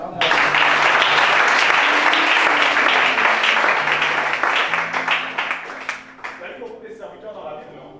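Applause from a church congregation at a deliverance service, a dense steady roar of clapping that fades over the last two seconds, with sustained voices or music tones underneath.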